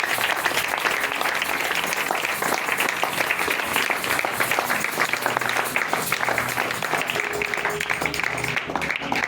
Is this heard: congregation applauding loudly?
yes